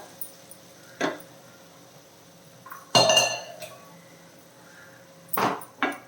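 A pot of bottle gourd curry being stirred, with a few sharp metallic clinks and scrapes of a spoon against the pot spread over several seconds of quiet room noise.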